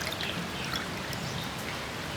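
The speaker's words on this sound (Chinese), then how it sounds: "倒水，" Water pours into a jar of homemade pickled chili and sour beans, a soft, quiet trickling splash lasting a couple of seconds.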